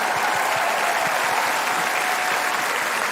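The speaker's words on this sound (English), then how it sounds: "Give them a big, big round of applause." Large audience applauding award recipients at an Australia Day concert, including the Australian of the Year and Young Australian of the Year; dense, loud, steady clapping filling the whole stretch without a break.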